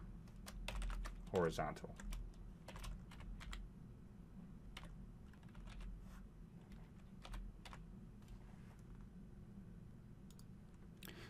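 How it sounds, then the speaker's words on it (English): Soft, quiet clicks of a computer keyboard being typed on in scattered bursts throughout, with a voice speaking briefly near the start. "and then I'm going to type"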